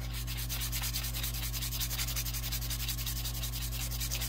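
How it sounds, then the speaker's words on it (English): Steady rhythmic rubbing of 150-grit sandpaper against a powder horn, close and continuous, quick back-and-forth strokes over a low constant hum, with no talking. "Now I'm gonna hit it with the sandpaper. I'm starting at 150."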